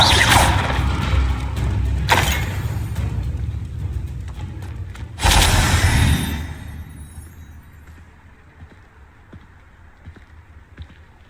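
The Incendio fire spell in Hogwarts Legacy bursts out with a loud whooshing blast and heavy thud, followed by a second surge of roaring flame that fades into quiet scattered clicks.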